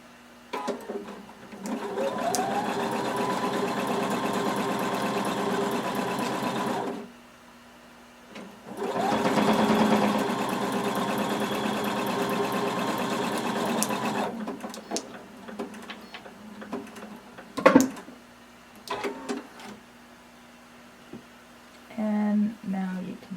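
Sewing machine stitching a swimsuit's lining crotch seam, two sustained loud bursts of fast, even stitching separated by a pause, then scattered clicks and handling noise.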